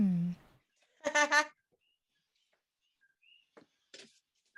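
A few short, bright bird chirps in a quiet setting, with a brief human voice at the start and another burst of speech-like sound.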